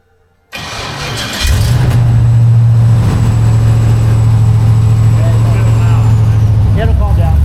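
An engine fitted with a custom LS exhaust in an S10 pickup fires up inside a garage, then settles into a loud, steady, throbbing idle that runs without a break. Faint voices sit underneath the engine.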